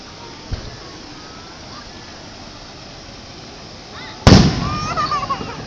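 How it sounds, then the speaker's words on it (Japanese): A fireworks burst goes off at Seibuen amusement park, watched from the wave pool: a faint distant thud early on, then a loud sharp explosion near the end followed by crackling sparkle, over quiet ambient crowd noise. "座って次どこから花火上がるか探して。"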